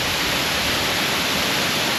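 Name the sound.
waterfall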